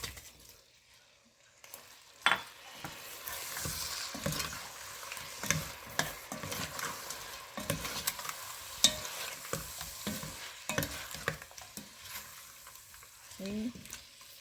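Goat meat going into a thick, blended isi ewu sauce in a pot, stirred with repeated scraping and sloshing strokes and light sizzling, close and fairly loud, with no talk.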